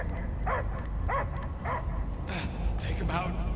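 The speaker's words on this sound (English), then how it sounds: "I hear only barking" Several short dog yips and barks spaced out over a steady low rumble in the video game Guardians of the Galaxy, with a voice briefly heard.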